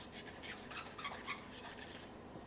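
Steady, close scratchy rubbing, aluminum foil scrubbing rust off chrome with Coca-Cola in a gritty back-and-forth that continues throughout, fairly quiet.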